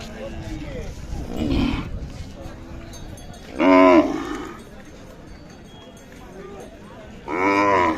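Cattle at a Khillar cattle market in Sangola give three loud, drawn-out moos spaced a couple of seconds apart, with market chatter and crowd noise filling the gaps between them.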